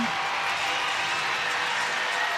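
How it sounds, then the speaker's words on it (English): At a women's college gymnastics meet, Oregon State vs. San Jose State, an arena crowd cheers in a brief, even wash of roaring noise with no clear peaks. "The crowd is cheering."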